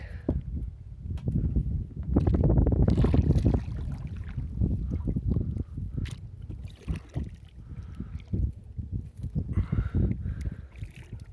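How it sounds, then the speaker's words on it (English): Kayak paddled one-handed on a lake, with rhythmic paddle strokes and water splashes close by, mixed with steady wind buffeting the microphone and a louder gusty patch early on. "I'm now one hand paddling my kayak."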